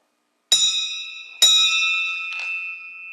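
A bell rings out during a sermon with two sharp strikes about a second apart, then a lighter third tap. Each strike leaves a clear, long ringing tone.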